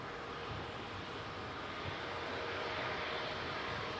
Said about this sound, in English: we got the TAP Air Portugal Embraer pushing back on Mac Cam as well.